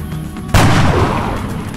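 A single loud gunshot from the strategy game XCOM: Enemy Unknown bursts out sharply, then trails off into a long booming, reverberant decay with no voices over it.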